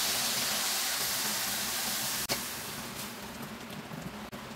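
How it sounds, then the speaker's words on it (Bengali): Coconut milk poured slowly into a karahi taken off the heat, a steady soft hissing, splashing stream that runs close and continuous, with no voices over it. "আর আস্তে আস্তে করে দুধটা ঢালবো।"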